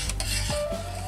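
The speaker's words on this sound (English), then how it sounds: "I'm gonna give it a stir." A spoon stirring sweet tea in a pot on the stove, brief metallic scraping and clinks against the pot with a faint ringing tone, close and alone.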